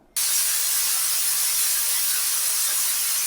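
A pressure cooker cooking biryani releases a loud, steady hiss of steam from its whistle. The sound starts abruptly and holds unbroken for about three seconds before cutting off.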